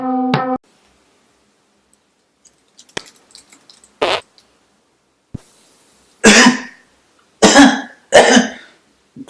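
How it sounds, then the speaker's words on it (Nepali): Several loud, close coughs and throat-clearing bursts from a person with a cold, spaced irregularly across the stretch with quiet gaps between, the last three harsh and forceful. "कस्तो खोकी लागिरहेछ भनेको"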